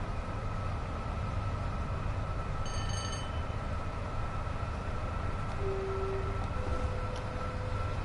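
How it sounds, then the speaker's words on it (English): Double-headed Class 37 diesel locomotives in Train Sim World 6, a steady droning engine rumble and rail noise throughout, with a brief horn-like tone partway through and a fainter one after it. "Double-headed 37s, that's what I like to see."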